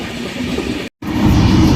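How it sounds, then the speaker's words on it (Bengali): The Gitanjali Express from Mumbai to Howrah running slowly, a loud close rumble of carriages on the rails that briefly cuts out, then returns heavier and deeper. "এই জন্য ট্রেন কিন্তু অনেক স্লো চলছে"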